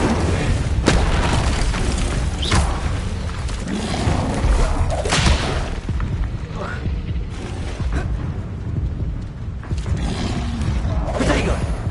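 Incendio fire spell cast in Hogwarts Legacy, with booming whooshes and bursts of flame recurring through a loud, busy combat scene while a voice talks over it.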